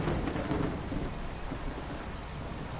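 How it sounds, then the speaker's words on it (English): Thunder rumbles low and continuous under a dense hiss of heavy rain in the Bus Simulator 21 video game, with no talk. "The thunder sounds really good."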